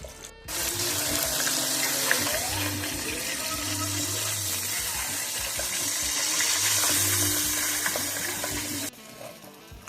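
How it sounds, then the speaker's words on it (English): Breaded pork chop deep frying in a fryer gives a steady, loud hiss and bubbling sizzle that runs for most of the stretch, beginning abruptly and cutting off near the end. "Alright, we're gonna let this bad boy fry."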